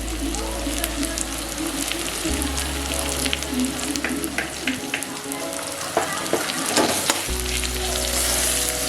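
Garlic paste sizzles and fries in a hot pan for a Bengali lentil-fritter curry, a steady close crackle with occasional stirring scrapes throughout.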